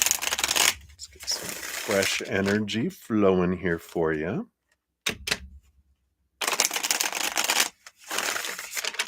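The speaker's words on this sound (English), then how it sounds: "Let's shuffle these up." Tarot cards shuffled by hand, crisp riffling bursts mixed in with someone speaking, followed by several short card slaps and pauses.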